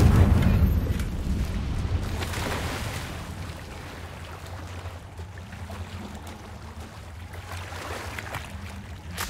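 Confringo blasting spell from Hogwarts Legacy, a heavy rumbling burst at the start that rolls and fades into a low sustained roar, with no talking.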